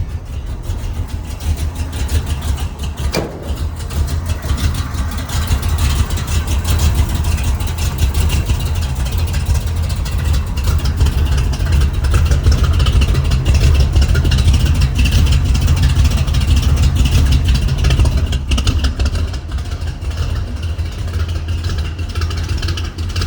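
Cold-started 1979 Ford F150 pickup engine on a chilly day, a steady loud low idle with mild rises in revs, close to the exhaust, with no talking.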